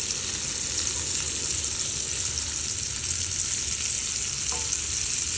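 Shrimp sizzling and browning in a hot pan for a shrimp and salad dish, a steady bright hiss and crackle throughout, close and even, no talking.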